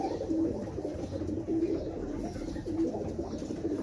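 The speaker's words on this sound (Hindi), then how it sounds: "और इसी तरह एक ये कबूतर बैठा है रामपुरी" A Rampuri pigeon gives a few low, soft coos at even intervals over a constant murmur of other birds, heard faintly at close range.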